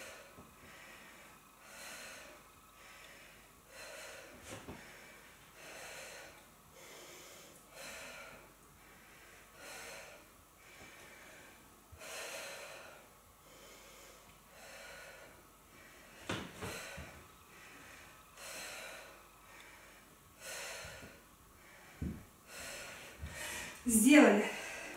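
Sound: heavy breathing after crossfit exercise

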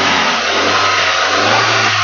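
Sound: used car engine revving

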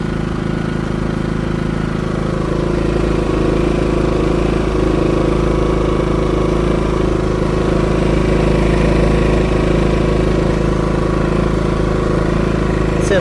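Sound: Dnipro-M GX-30iG inverter generator running on first start

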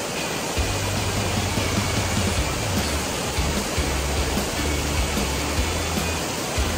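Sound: waterfall

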